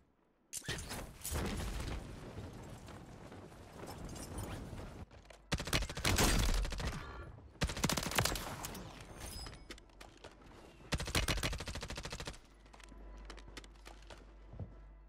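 Gunfire in Call of Duty Warzone on Rebirth Island. Several separate bursts of shots and combat noise come in clusters broken by short pauses, at moderate loudness, with no speech.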